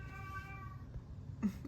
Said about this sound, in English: Sorry for my cat.